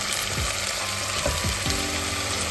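Vegetables hitting a hot frying pan in a home kitchen, a loud continuous sizzle with a few sharp scrapes and knocks of utensils against the pan, close and steady throughout.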